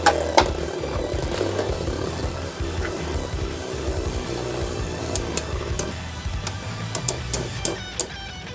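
Metal-wheeled Beyblades spin and clash in a stadium, a continuous whirring drone punctuated by sharp, bright metallic clicks of hits that come more often toward the end.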